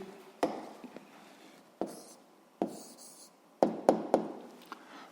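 Handwritten answer to a physics problem, a handful of sharp pen taps and short scratching strokes on paper, close and spaced irregularly with a quick cluster near the end.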